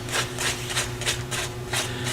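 Fine sandpaper rubs a small part of a handmade texturing tool in quick back-and-forth strokes, about seven rhythmic raspy swipes close up over a low steady hum, with no voices.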